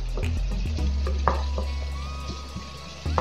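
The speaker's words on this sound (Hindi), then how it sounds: "अब ये जो साबुत खड़ा हुआ मसाला है इसको हम स्पून से मैश कर लेंगे" Whole spices being mashed with a spoon in a frying pan with dal mash give a low steady sizzle and hum, broken by a few dull taps and scrapes of the spoon against the pan.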